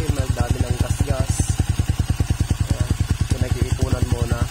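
A motorcycle engine idles close by with a steady, rapid low-pitched thumping and some mechanical clatter, running continuously without revving.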